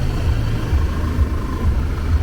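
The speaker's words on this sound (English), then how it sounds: "now I'm going to put the compressor tool on and run the compressor" An Audi variable displacement air-conditioning compressor runs under a compressor test tool, giving a steady low mechanical rumble and hum that stays even throughout.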